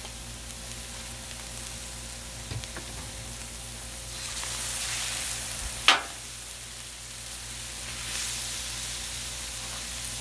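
Corn and smashed potatoes fry in a pan with a soft, steady sizzle that swells midway. A single sharp clack of a utensil stands out near the middle.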